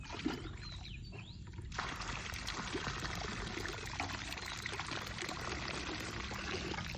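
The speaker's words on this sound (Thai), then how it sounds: "มันเทน้ำใส่ก่อน" Water poured into a siphon hose used to drain a pond, a continuous trickling and splashing flow heard close up and steady for several seconds, with faint outdoor background.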